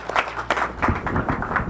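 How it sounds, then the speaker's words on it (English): Audience applause at an outdoor launch event for educator vaccinations, a dense crowd clapping loudly and steadily throughout with no pause. "Let's give her another round of applause."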